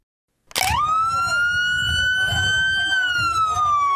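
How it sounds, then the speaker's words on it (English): A police siren wails in from silence and holds a steady, loud tone, part of an escort of ICE agents and Tennessee Highway Patrol vehicles guiding a bus, with a low rumble of traffic beneath it. "Sirens blare as ICE agents and Tennessee Highway Patrol officers guide a bus"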